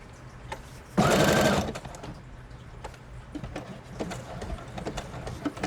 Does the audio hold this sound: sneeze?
no